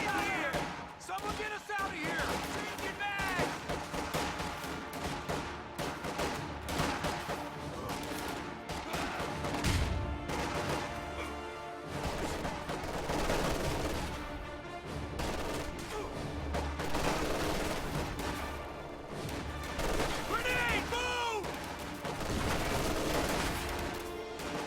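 Sustained video game gunfire as grenadiers and riflemen trade shots, dense rapid bursts and repeated cracks layered over one another and continuing without pause, loud and busy for the whole stretch.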